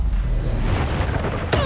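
A Confringo blasting-spell explosion in the Hogwarts Legacy video game: a loud, dense boom with a rumbling body, ending in a sharp crackling burst.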